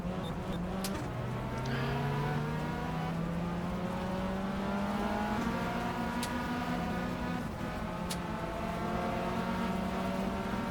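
Engine of a Mini in a racing video game, revving with rising and falling pitch as gears change, a steady continuous drone with occasional sharp clicks.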